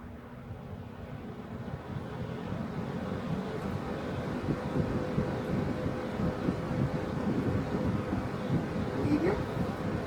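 A vintage Eskimo box fan runs on its high setting, giving a steady whooshing drone with a low rumble, while a furnace inducer fan hums in the background and a person talks over it.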